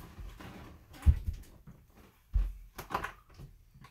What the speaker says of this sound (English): the dog's just knocking on the door or whatever